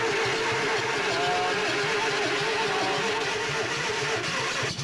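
An old Amphicar amphibious car with a neglected engine cranks over in steady repeated pulses as it tries to start, a close, rhythmic churning that does not catch.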